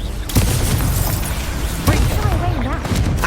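Fiery spell blasts from the Incendio fire spell in the Hogwarts Legacy video game: two sharp, loud whooshing bursts, the second about a second and a half after the first, over a continuous bed of game music and effects, with voices nearby.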